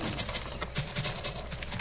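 Rapid mouse clicking to place blocks in a Minecraft-style building game while shaping terrain, a quick, fairly even stream of light taps over a faint background.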